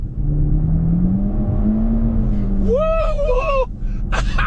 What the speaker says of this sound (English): I hear these things are fast, so let's try the speed test first.